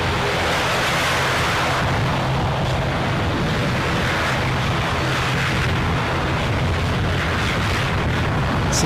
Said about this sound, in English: we're still getting blasted from this turboprop